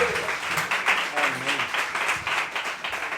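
Church congregation applauding together, a steady wash of many hands clapping that swells and dips for a few seconds, with faint voices mixed in.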